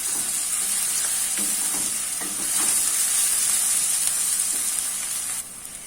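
Garlic-ginger paste frying in a pan with browned onions, a loud, steady, close hiss of sizzling oil that carries on without a break and drops a little near the end, with faint stirring scrapes and no talk.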